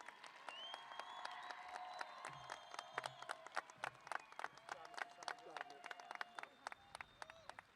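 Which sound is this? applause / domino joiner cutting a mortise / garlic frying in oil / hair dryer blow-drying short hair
applause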